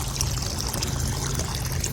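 Water poured steadily into a container for garden plant care, a continuous close trickling splash that runs for about two seconds and then cuts off abruptly.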